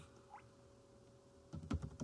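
A quick burst of keystrokes on a computer keyboard, entering a firewall command on a CentOS 7 Linux system, comes after a quiet pause, close and fairly soft.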